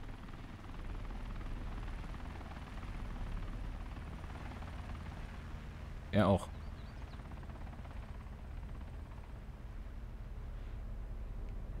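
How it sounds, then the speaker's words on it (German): A helicopter in the DayZ Epoch video game drones overhead as a steady, loud low rotor rumble that never lets up, with a brief spoken remark cutting in midway. "So, mir wurde der Heli irgendwo angezeigt."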